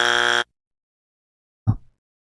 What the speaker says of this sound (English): My buzzer was late.